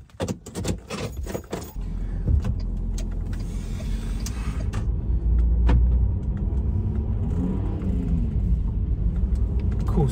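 An SUV being started and driven, opening with clicks and clunks of keys and a door, then a low steady engine rumble and road noise that builds and holds close and loud, with no talking.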